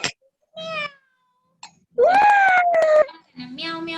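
Voices imitating a cat's meow while singing Old MacDonald Had a Farm, several short sung meows in a row, close and fairly loud, one drawn out longer than the others.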